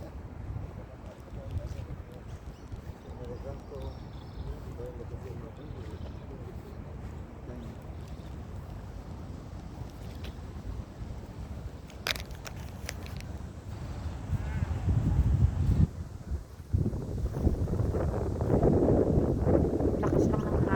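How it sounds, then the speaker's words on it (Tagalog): Gusty wind buffets the microphone in a botanic garden in Sydney, Australia, rising to loud rumbling blasts toward the end, with a voice speaking faintly at times. "Lakas lang ng hangin."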